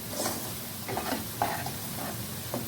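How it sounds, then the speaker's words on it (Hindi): Chopped onions sautéing in a pan, a steady soft sizzle with repeated scraping stirs every half second or so, close and moderately quiet, no voices. "यहाँ पे मैंने इसमें सारी प्याज को जो है वो डाल दिया। इसको हम भून लेंगे 1 से 2 मिनट तक।"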